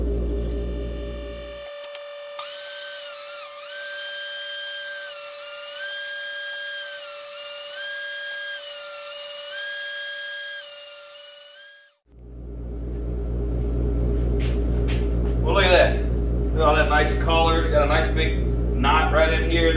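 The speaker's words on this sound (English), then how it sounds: "So we're going to shoot it through the planer here" A wood planer fed live edge lumber makes a loud, steady, close machine roar at the start and through the final stretch, with a long wavering tonal whine filling the gap between.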